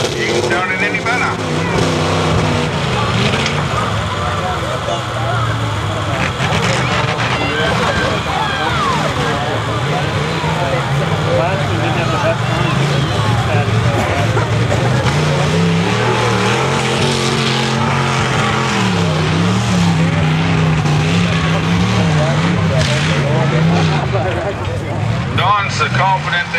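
A modified truck's V8 engine runs loud and rough at a Tuff Truck event at the Dover Fair, with a steady uneven rumble that throbs and surges throughout while an announcer talks over it.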